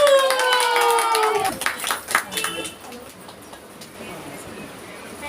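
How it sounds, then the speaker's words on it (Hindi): Audience applause at a Teej function, a burst of clapping that swells briefly then thins into scattered claps and crowd murmur, with a tonal sweep and chatter at the start. "जोरदार तालियां होटी के साथ"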